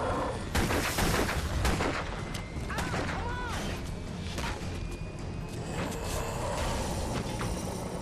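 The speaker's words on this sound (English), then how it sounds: "That was a lot of fucking shooting" Dense bursts of gunfire in the video game Alan Wake, loud and rapid with crashes and mechanical clatter, continuing throughout with a voice speaking over it.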